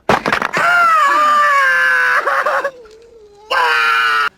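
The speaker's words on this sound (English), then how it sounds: "Since the first caveman leader dropped a rock on Ugg's foot just to hear him yowl." A man lets out a loud, drawn-out yowl of pain, breaking off briefly, then rising into a second strained cry.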